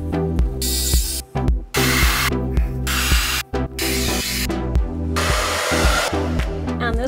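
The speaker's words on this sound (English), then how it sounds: "this blow dryer is 1/3 the weight of the one that damaged my hair" A lightweight hair dryer roars loudly and close by, its blowing hiss and motor hum broken by brief cutoffs as it is switched or moved.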